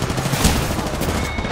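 Rapid gunfire from a video game gun rattles in a dense, loud, continuous burst of shots lasting under two seconds.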